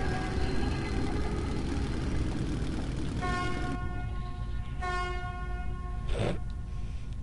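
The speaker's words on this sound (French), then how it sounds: "Ah non, il n'y a pas besoin de klaxonner." Train horn blaring in the video game Metro 2033, a sustained tonal honk rising over the rumble of a rail vehicle in motion, fairly loud against a constant low engine drone.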